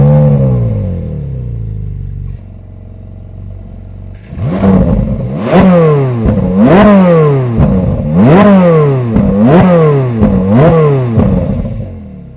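A Ferrari 458 Italia's 4.5-liter V8 idles, then revs repeatedly in a steady rhythm of sharp, rising blips that drop back between each, loud and close.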